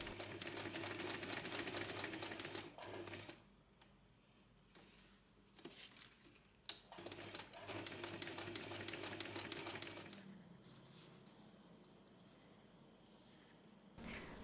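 A sewing machine runs steadily, stitching a label onto a canvas tote bag. Its drone is continuous, with a brief pause partway through, then the stitching carries on at a lower, even level.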